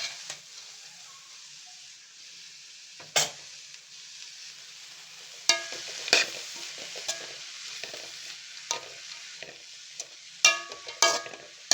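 Cauliflower, broccoli, spinach, green chillies and capsicum stir-fried together in a pan, giving a steady close sizzle broken by several sharp scraping stirs of a spatula, with no talk.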